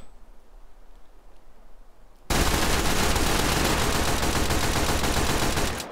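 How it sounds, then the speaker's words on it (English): Gunfire from a Team Fortress 2 gun in a VR video game, with a crazy ricochet: a short, quiet lead-in, then a sudden loud, dense burst of sustained rapid shots and noise that fades at the very end. "Some kind of crazy ricochet."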